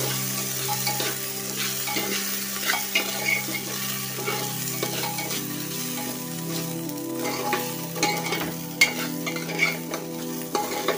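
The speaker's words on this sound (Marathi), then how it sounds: "हा तांदूळ तुपावरती परतून घ्यायचा आहे। 1 मिनिटभर तरी हा चांगला परतून घ्यायचा" Rice roasted in ghee in a pan for coconut sweet rice, a steady close sizzle with continuous stirring scrapes and occasional light clinks of the spoon, no voices.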